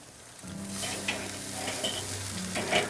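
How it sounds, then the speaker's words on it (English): A well-done kid's steak sizzles and spits on a hot grill while being charred with smoky grill lines, a steady close crackle with a low hum underneath and a few brighter pops. "We are going to directly char some smoky lines right on top."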